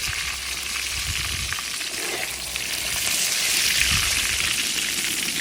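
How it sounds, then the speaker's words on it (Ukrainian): Carp sizzles and crackles in hot oil inside a cauldron over a campfire, a steady, dense frying hiss that swells slightly louder toward the end, with no voices. "Тоді його варимо трішки в олії, даємо щоб він був взяв аромат жареної риби."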